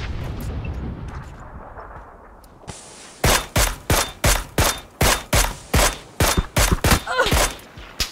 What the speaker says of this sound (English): someone else is shooting at me now